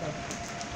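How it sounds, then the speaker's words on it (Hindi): Hail and heavy rain falling in a storm in Karachi, a steady dense patter of drops striking surfaces close by, quiet and continuous through the short moment with no talking. "ओले पड़े ओले।"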